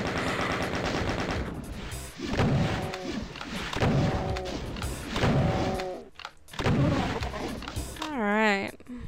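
Rapid weapon fire from a DOOM WAD shoots off in repeated bursts with short gaps, loud and close, while someone talks over much of it.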